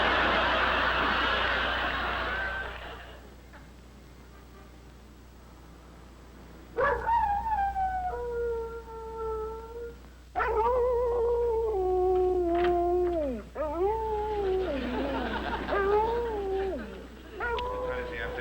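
A dog howls in a 1960s sitcom scene, with long wavering drawn-out howls in several bursts, loud and close, following a stretch of noise and quieter moments.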